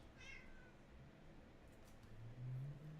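A cat meows once, a short rising call near the start, with faint low rumble and a soft low hum later in the clip; no one speaks.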